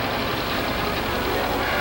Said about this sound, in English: It sounded like a car.